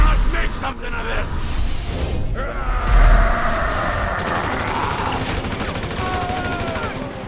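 Rapid bursts of automatic gunfire in the video game GTA 5 crackle amid game noise and a whooshing sweep, with a voice talking over parts of it.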